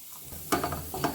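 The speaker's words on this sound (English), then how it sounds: "So you want the ginger and the garlic to become fragrant. And I'm just stirring this so that it doesn't burn." Ginger and garlic sizzling in oil over heat just under medium while being stirred, a soft steady fry with a few quick scraping clicks from the stirring, close and quiet.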